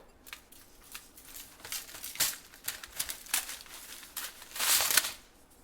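Aluminium foil crinkles and crumples as it is folded and wrapped around Cajun-spiced baby back ribs, a run of close, uneven rustling bursts with louder crackles near the end.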